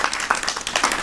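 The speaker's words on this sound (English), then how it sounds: "Let's give her a round of applause." Audience applause for co-host Bella at a volleyball team interview event, a brief burst of steady, moderately loud clapping from a small crowd.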